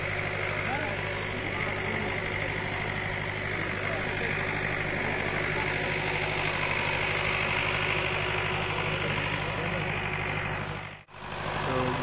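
A diesel generator from Tanuja Electric runs steadily at a music setup in a market, a continuous engine drone with low hum that carries on without change, briefly dipping near the end, while a voice talks over it.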